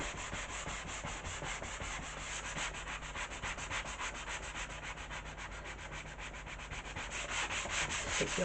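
Sandpaper rubbed by hand over wood to smooth out dents, a steady close scratchy rasp of repeated back-and-forth strokes with no talking.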